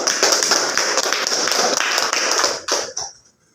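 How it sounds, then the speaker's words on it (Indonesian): A class applauds a student group with a dense burst of hand clapping that runs steadily, then breaks into a few scattered final claps and fades out. "kita beri aplaus"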